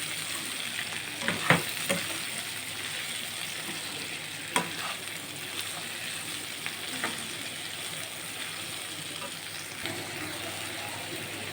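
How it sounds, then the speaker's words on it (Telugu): Sliced ivy gourd rounds frying in a little oil while being mixed, a soft steady sizzle with occasional sharp clicks of the spoon against the pan. "దొండకాయ ముక్కల్ని ఆయిల్లో వేసేసి బాగా మిక్స్ చేయాలి"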